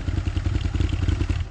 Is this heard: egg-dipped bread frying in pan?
no